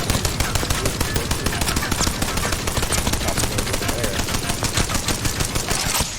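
Rampage LMG fire in Apex Legends, a steady, loud, rapid stream of heavy machine-gun shots with an even rhythm, unbroken for the whole stretch.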